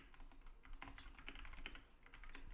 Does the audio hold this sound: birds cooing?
no